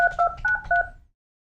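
Dialing tones from a Polycom IP 331 desk phone keypad: a quick series of about five two-tone beeps in an even rhythm, clear and close, then silence.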